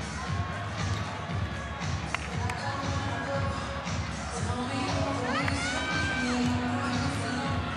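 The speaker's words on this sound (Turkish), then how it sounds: "Heyecanlı bir seyirci topluluğu yerlerini almış durumda." Volleyball spectators fill the Ankara Sports Hall before a VakıfBank versus Eczacıbaşı Dynavit cup semi-final, keeping up a steady indoor crowd murmur with scattered shouts, whistles and a few taps. A commentator talks over the crowd throughout.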